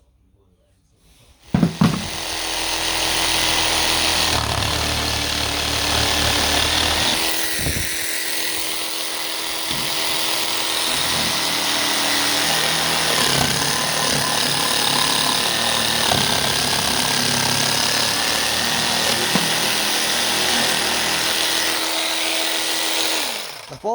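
A small cordless 12-volt jigsaw cuts a straight line through wood for a DVD shelf, making a steady, close, buzzing rattle that runs for about twenty seconds with slight changes in pitch and load.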